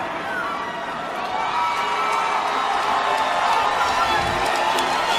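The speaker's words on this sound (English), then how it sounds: "A standing ovation from all the women here and some of the guys yelling, "Don't do it."" An arena crowd at a Glory 50 kickboxing event in Chicago roars in a standing ovation after a marriage proposal in the ring, with sustained cheering, whoops and shouting carrying steadily throughout.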